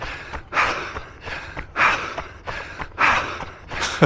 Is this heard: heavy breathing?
yes